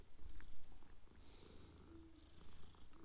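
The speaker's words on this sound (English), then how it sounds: "See the kitty, pet the kitty." A petted cat in the video game Hogwarts Legacy purrs softly and steadily in a low rumbling rhythm, fairly faint and close, with no other sounds over it.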